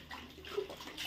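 Water runs and splashes during household washing, a soft uneven pouring close by, faint overall.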